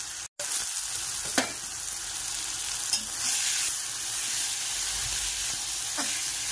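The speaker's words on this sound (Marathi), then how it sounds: "5 ते 10 मिनिटं आपल्याला उसळ परतायची। त्याचा पूर्ण स्मेल निघेपर्यंत आपल्याला परतायचं।" Usal, a sprouts curry for misal pav, sautéing in a pan: a dense, even sizzle close by, broken by a few faint spatula scrapes, with a brief dropout near the start.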